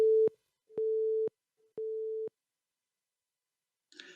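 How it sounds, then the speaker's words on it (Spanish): Three steady test tones in sequence, each sounding clearly quieter than the one before, separated by short silences, with a faint brief noise at the very end. "La idea ahí es que cada tonito son 6 dB menos"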